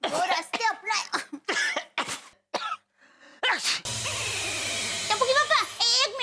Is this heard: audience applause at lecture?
no